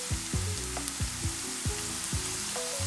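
Onions caramelizing in a pan with balsamic vinegar and sugar give a soft, steady sizzle, with faint recurring tonal sounds layered over the frying.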